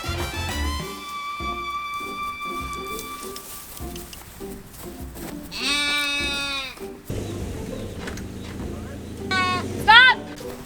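Sheep bleat in several loud, wavering calls, some close and some farther off, on a farm where new livestock are being settled inside sheep netting, with people talking and outdoor noise in between.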